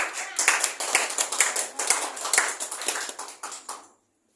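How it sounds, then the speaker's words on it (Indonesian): A small classroom group claps for student teams in a micro-teaching session, crisp close handclaps in a quick uneven patter that swells and fades, then stops abruptly into silence. "Jadi tepuk tangan dong buat kelompok-kelompok tadi yang udah melakukan sesuatu"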